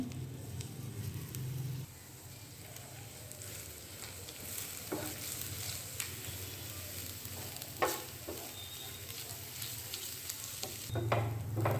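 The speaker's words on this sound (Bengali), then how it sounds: "একটু ঘি দিয়ে নেড়ে দেবো" Grated coconut filling stirred with ghee in a pan over low flame, soft steady sizzling with scraping stir strokes, quiet and close, no talking.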